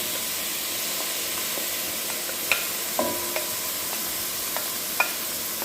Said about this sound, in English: we're going to also fry the saltfish in here